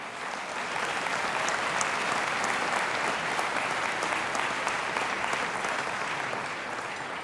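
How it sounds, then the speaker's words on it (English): Sustained audience applause at a national journalism awards ceremony, a dense, even roar of many hands clapping that holds steadily throughout with little talk. "let's all give another round of applause to show our appreciation"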